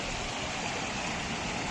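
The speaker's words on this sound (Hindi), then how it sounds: "ये पानी का बहाव देखिए आप।" Rainwater rushing across a road and pouring into a canal, a dense continuous roar of flowing water, close and steady without pause.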